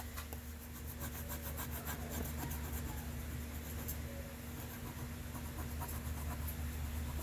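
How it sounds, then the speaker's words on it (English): A scraper pressed hard and rubbed repeatedly over a Prima transfer sheet on a furniture surface gives a steady, close scraping and rubbing texture with a low background hum, continuing without pause and with no talk. "So just go over it with your scraper really hard."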